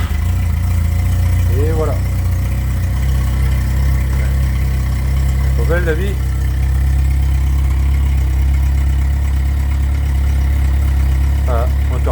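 A cold car engine idles steadily at zero choke, running slightly rich, with a constant low rumble throughout while someone speaks briefly in French.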